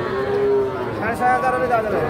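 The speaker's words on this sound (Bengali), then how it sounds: "শাহিওয়াল ষাঁড় বাচ্চা" A Sahiwal bull calf at an Ambari cattle market moos twice in drawn-out, tonal calls, the second rising and wavering, close and fairly loud over a low murmur of market crowd.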